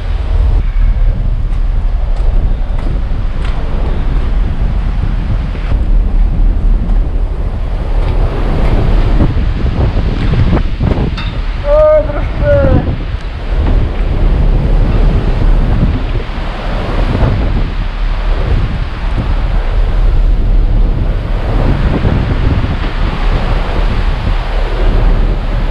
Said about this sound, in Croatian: Učujete vetar?